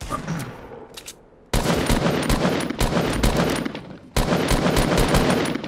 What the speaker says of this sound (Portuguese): Cara, tem um monte de tiro, velho.